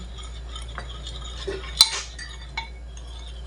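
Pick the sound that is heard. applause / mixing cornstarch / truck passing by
mixing cornstarch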